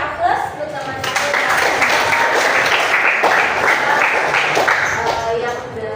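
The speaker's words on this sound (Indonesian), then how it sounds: "kita kasih aplaus untuk teman-teman" Students in a class clap for their classmates. The applause is steady, dense and fairly close, rising quickly and holding for several seconds before it starts to fade.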